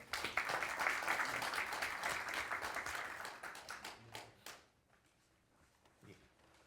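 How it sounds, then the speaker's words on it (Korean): Audience applause at a monthly expanded meeting of heads of a national heritage agency, a dense burst of clapping from the room that thins out and stops after about four and a half seconds, followed by near silence. "그래도 우리 박수 한번 치시죠"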